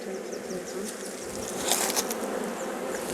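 Drone honeybee buzzing steadily around an open hive during a beekeeping swarm-catch check, a continuous close insect drone with a brief louder swell midway.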